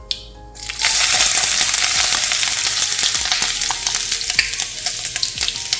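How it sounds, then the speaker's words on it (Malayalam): Chopped ginger frying in hot oil just after mustard seeds have popped, for a Kerala-style beetroot pickle: a sharp clatter at the start, then a loud, steady sizzle with crackles and stirring clicks throughout, no talk. "കടുക് പൊട്ടിക്കഴിഞ്ഞ് ഇനി ഇതിലേക്ക് 1/4 കപ്പ് ഇഞ്ചി,"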